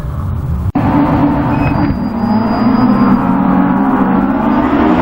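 Autograss racing cars driving on a dirt track at St Neots, a sustained loud engine roar from several cars with a brief dropout near the start, steady and close without speech.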